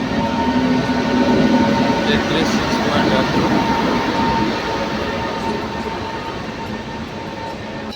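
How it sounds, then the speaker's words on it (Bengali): A Sealdah-Lalgola passenger train hauled by a WDS7 locomotive rolls into a station platform with a loud, sustained rumble and rail noise close by, while a person speaks briefly over it. "এই মুহূর্তে আমাদের ট্রেন আসছে শিয়ালদা লালগোলা"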